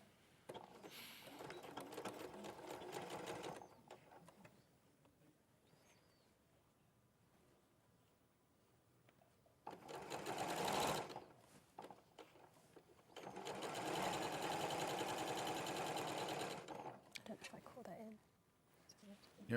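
Bursts of a sewing machine running through fabric, one short run near the start, a brief one midway and a longer steady run later, separated by quieter gaps.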